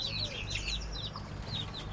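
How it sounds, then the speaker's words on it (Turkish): Faint high-pitched peeping of newly hatched five-day-old Indian (Asil) chicks, several short chirps close by over a steady low background hum. "yeni çıkmış 5 günlük Hint civcivlerim var"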